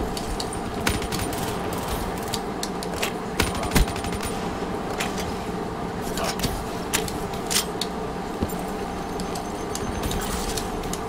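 Rapid bursts of gunfire crackle in a shooter video game, clustered clicks and pops over a steady hum of game ambience, with no talk over them.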